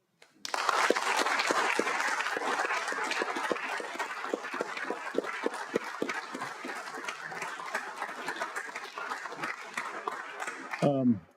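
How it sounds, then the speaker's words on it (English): Audience applause at a city council meeting, sustained steady clapping from a room of people lasting around ten seconds before stopping abruptly. "I would love to give a huge round of applause for these gentlemen here."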